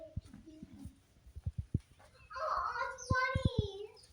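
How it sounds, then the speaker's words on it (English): Chickens on a family farm in autumn, a few close clucks and short pecking knocks, followed by a louder squawking call over which someone speaks. "You naughty, naughty chicken"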